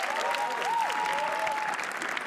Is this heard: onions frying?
no